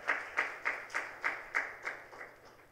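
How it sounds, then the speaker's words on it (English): Applause at an ISHRAE live event, a short run of about nine evenly spaced hand claps, faint and fading slightly toward the end, with no voices over them. "And bigger round of applause to Mr."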